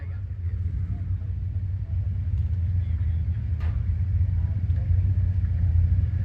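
A naturally aspirated 1965 Chevrolet Nova at a drag racing event rumbles with a steady, deep low engine drone, moderately loud and continuous, with faint background noise over it.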